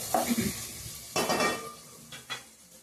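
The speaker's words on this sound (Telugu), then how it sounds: "అవి వేగుతా ఉన్నాయండి టమాటాలు ఉల్లిపాయలు పచ్చిపాయలు వేగుతాము" Tomatoes, onions and green chilies frying in a pan, with a few separate bursts of stirring and scraping against the metal over a faint sizzle.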